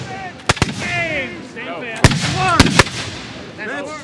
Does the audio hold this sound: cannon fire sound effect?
yes